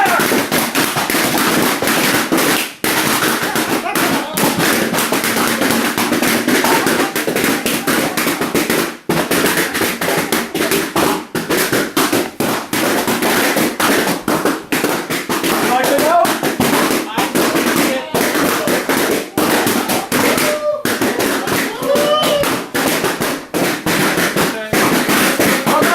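A crowd indoors imitates fireworks with their voices, a loud sustained chaotic burst of popping, whooshing and crackling mouth noises all at once that keeps going to the end.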